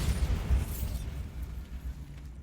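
A Bombarda spell blast in the video game Hogwarts Legacy: a loud, booming low-end explosion with a rumbling tail that fades over a couple of seconds, no talking over it.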